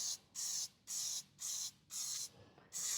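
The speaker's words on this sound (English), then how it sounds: "I love to spray a bundt pan because it gets in all the cracks and stuff better than me doing it by hand" Cooking spray sprayed into a 12-cup bundt pan in five close, steady hissing bursts of about half a second each, separated by short pauses, with no talking.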